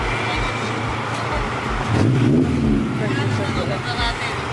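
A car with a newly installed aftermarket exhaust hums steadily, then swells into a louder acceleration midway before easing off, under continuous talking throughout.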